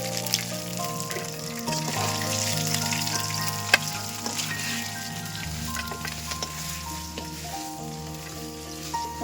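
Fish head frying in hot oil, with a steady, close sizzle and crackle that runs throughout, and a few brief clinks of utensils over it, with no speech.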